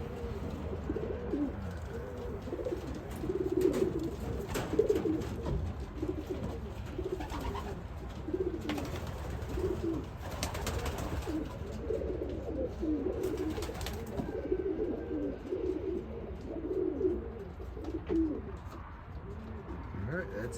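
Racing pigeons coo steadily in a loft, young birds weaning, with overlapping soft throaty calls filling the space at moderate level and a faint voice now and then.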